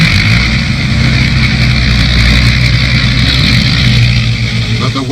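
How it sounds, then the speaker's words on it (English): Military trucks roll along a freshly cleared rough road, a continuous loud droning of engines and rumbling wheels filling the whole stretch without pause. "But the way is cleared and the trucks roll on."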